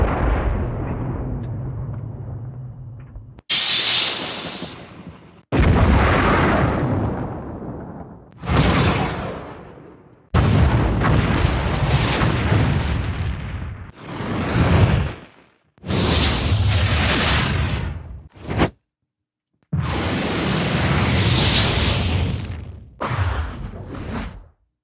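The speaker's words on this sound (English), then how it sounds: "we're in the explosions" A rapid run of library explosion sound effects, each a loud booming burst with a rumbling tail, separated by short silences and sudden cuts from one blast to the next.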